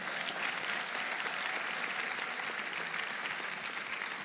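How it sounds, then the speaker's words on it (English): An audience at a Rwandan convention in America claps steadily in a dense, even wash of applause that holds at the same level throughout. "So please clap for my husband so he knows that he did."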